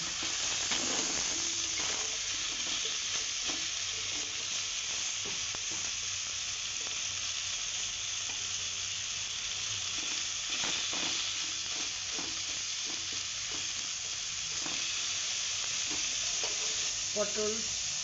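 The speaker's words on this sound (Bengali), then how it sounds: "এবারে পটলটাকে আমি একটু ভেজে নেব।" Pointed gourd (potol) pieces seasoned with salt and turmeric fry in a pan, giving a steady, close sizzle with occasional stirring scrapes that lasts the whole time without any talk.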